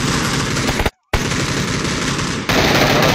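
Dense automatic gunfire in a shooter video game rattles loudly and continuously, broken by a brief total silence near the start and a slight shift in tone partway through.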